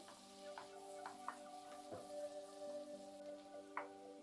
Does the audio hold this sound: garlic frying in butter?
yes